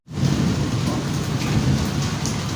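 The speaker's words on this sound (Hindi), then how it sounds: "तो ये भी बस बारिश माशाल्लाह फिर तेज हो गई है" Heavy rain pours down in a dense, steady roar, close and loud, with no talking.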